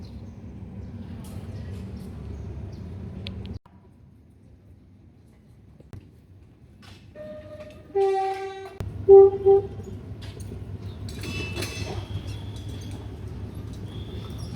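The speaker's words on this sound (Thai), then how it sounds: "สปรินเตอร์ออกมาแล้วค่ะ มาดูว่า จะเข้ามาในชานชลาที่9ได้ไหม ตอนนี้ออกไปหน้าโรงซ่อมรถจักร" A Sprinter diesel railcar pulls out past the locomotive repair depot toward platform 9, with a steady low engine rumble, then a few short tonal horn toots midway before the rumble returns under busy station background noise.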